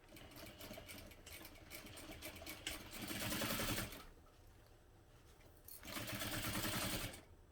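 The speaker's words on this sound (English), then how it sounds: "a stitch length of 3 to sew that part together" A sewing machine stitches vinyl at stitch length 3, joining the pieces of a reduced-size Tribbiani Traveler bag. It runs in two loud bursts of rapid, even needle chatter separated by a quieter pause.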